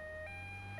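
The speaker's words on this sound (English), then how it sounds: "Here's the ambulance!" An ambulance siren wails steadily and fairly loud, a sustained tonal blare held through a brief moment with no talking.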